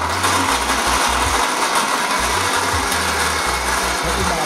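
Electric blender whirring loudly and close as it blends coconut with water, its motor pulsing in repeated on-off bursts with a gritty, grinding churn.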